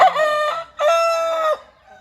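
A rooster crows loudly and close, two long strained calls in a row with a short gap between them, then quiet.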